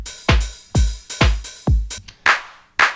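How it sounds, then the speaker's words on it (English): Drum machine clap sample on a Deconstruct MINIMAL, fired six times in a steady pattern; each hit is loud and close with a fairly long decaying tail, the last two brighter and snappier. "Now that's kind of a long clap."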